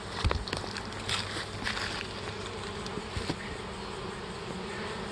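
Honey bees swarm and buzz around a hive during a move from a nuc into a ten-frame box, a steady dense hum with a few louder passes close by and no talk.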